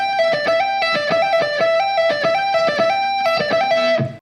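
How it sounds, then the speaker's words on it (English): Electric guitar shred lick played with uneven, out-of-time phrasing: a rapid run of repeated picked notes whose rhythm drags and rushes, loud and close, with no talking and a clean stop at the end. "the second mistake is uneven timing or just playing out of time in general"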